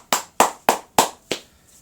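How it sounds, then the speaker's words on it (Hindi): A church congregation clapping in unison during a Hindi worship service, five sharp, evenly spaced claps, loud and close with brief silence between each, no talking. "यीशु मसीह की महिमा करे तालियां।"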